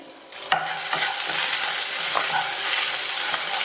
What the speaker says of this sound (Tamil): இதில் ஒரு கட் பண்ண காஞ்ச மிளகாவும் நல்லா பொடியாக கட் பண்ண பச்சை மிளகாவும் சேர்க்குறேன்